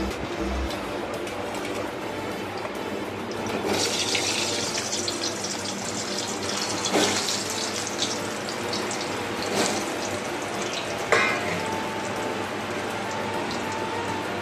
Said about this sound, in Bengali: এবার আমি একটু আলুটা ভেজে নিচ্ছি।